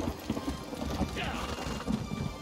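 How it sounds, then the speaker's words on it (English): Horse hooves clip-clop on the ground in the video game The Elder Scrolls Online: High Isle, an uneven trot of hoofbeats with a faint whinny, while voices talk over it. "Horse."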